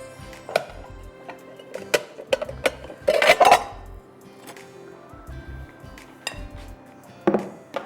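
Bowls and dishes clatter in a home kitchen while a chicken salad is prepared. Sharp separate knocks and clinks ring out close by at an irregular pace, with one busier cluster of clatter and quiet gaps between them.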